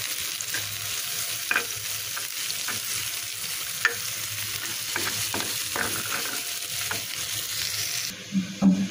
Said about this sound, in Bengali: এখন মাঝখানে একটু ফাঁকা করে পেঁয়াজ কুচি আর মরিচ কুচি দিয়ে দিলাম, একটু বাদামি করে ভেজে মিশাই দিব এর সঙ্গে